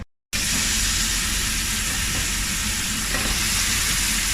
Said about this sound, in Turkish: Evet arkadaşlar şimdi etlerimizi mühürlüyoruz